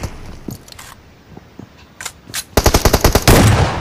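Rapid bursts of gunfire ring out in the BGMI mobile battle game, a few scattered shots followed by a loud, tight volley of repeated blasts near the end.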